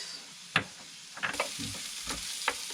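Diced onion frying in a pot gives a low, soft sizzle, broken by a few sharp scrapes and knocks from stirring, with no voices.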